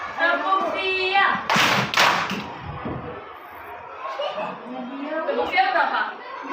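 Children in an Indonesian primary classroom perform a clap routine, with short bursts of clapping mixed with a teacher's voice and children's chatter and laughter.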